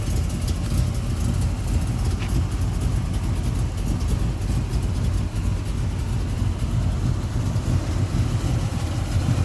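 A 1970 Chevrolet El Camino V8 fitted with headers and a 2.5-inch exhaust out the back rumbles steadily at idle, a loud, continuous low-pitched burble heard up close with no speech.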